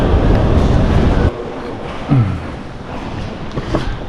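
A metro train in Kazakhstan rumbles loudly along the track, then the noise drops to a steadier, quieter hum with faint clanks.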